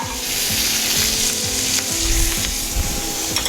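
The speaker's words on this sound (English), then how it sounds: "I'm going to saute those in the butter for a little bit" Apples and onions sauté in butter in a pan, giving a steady, loud sizzle and crackle throughout with a few soft stirring scrapes, no voices.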